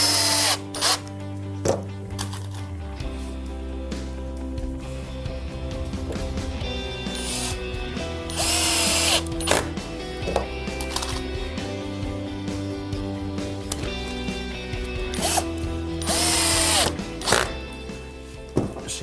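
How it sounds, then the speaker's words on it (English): A Silverline power drill driving screws tight into a wooden pallet bench, a loud steady motor whine with shifting pitch and bursts of ratcheting clutch clicks, running almost continuously and alone without voices. "drive a few more screws right the way in so it's nice and tight"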